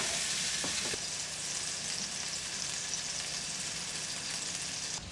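A burger patty fries in a pan over medium heat, giving a steady, close, continuous sizzle that holds at an even level from start to finish with no voices.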